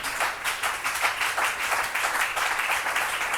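A church congregation claps in steady, rapid applause throughout, fairly close and sustained, with no clear voices standing out over the clapping.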